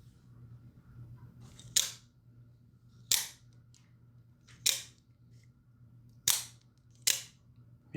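A Microtech Ultratech titanium out-the-front knife fires its blade open five times, each a sharp, loud snapping click spaced a second or so apart over a quiet background hum.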